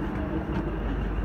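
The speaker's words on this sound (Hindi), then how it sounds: "ट्रेन आ गई" Local train pulling in at a station, a steady low rumble of rail wheels and carriage noise filling the short stretch without clear voices.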